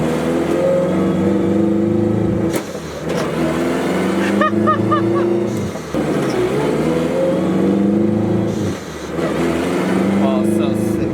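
A car fitted with a dogbox transmission accelerates through its gears, the engine note rising and dropping at each shift, heard from inside the cabin while people talk and exclaim over it.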